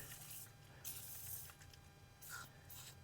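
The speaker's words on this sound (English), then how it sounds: "I'm going to spray this down with some penetrant." Penetrant spray hisses onto bolts in three short, fairly faint bursts at close range over a low background hum, with no talking.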